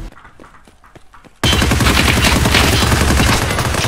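Automatic gunfire in Escape from Tarkov: Arena, first a few faint distant shots, then a sudden loud close burst of rapid fire that keeps going without a pause.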